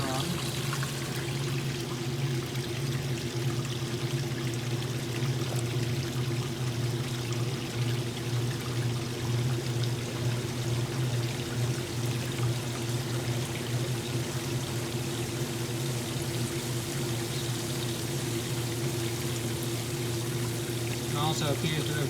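A Maytag top-load washing machine drains, a strong, steady rush of pouring water over a low motor and pump hum that runs unbroken and close throughout.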